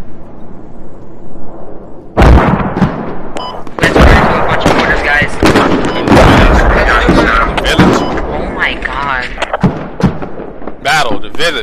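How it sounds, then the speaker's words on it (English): Mortar and artillery fire in the military shooter Squad, heavy booming impacts and gunfire bursts crowding the mix, with voices talking over and between the blasts. "The mortars are directly on target"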